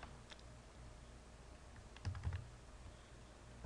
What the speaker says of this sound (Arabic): بعد ذلك مسافة، بعد ذلك نضغط على شيفت وحرف الجيم نكتب بوزيشن